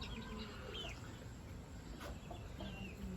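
Aseel hens cluck softly in a farm setting, a few scattered calls over a quiet background.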